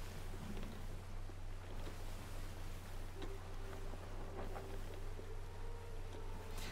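A sailing ship in the video game Sea of Thieves glides through the sea with a steady low rumble and rushing wind, a faint tone drifting in the background, no voices.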